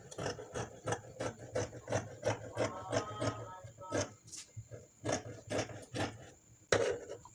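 Scissors cutting fabric for a short pleated cross-front gown, giving a rhythmic series of close, crisp snips and rasps with brief pauses.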